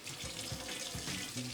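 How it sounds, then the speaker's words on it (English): Water runs from a kitchen sink faucet into the basin during drain unclogging, a steady broadband hiss with light splashing, close and continuous. "run the water on both sides of your sink for probably about a minute or two"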